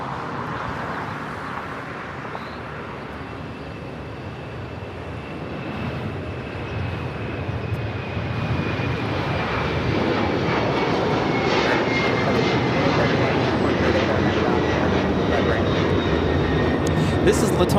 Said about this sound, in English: taking off to Lima, Peru on the 767-300ER